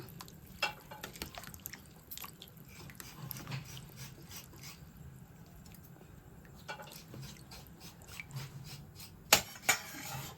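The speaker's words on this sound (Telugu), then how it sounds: "వాటర్ వేసుకుని కలుపుకోవాలి." A spoon stirs rice and water in a pressure cooker for chicken biryani, making soft scraping and scattered metallic clinks against the pot at a low, close level. One sharper knock comes near the end.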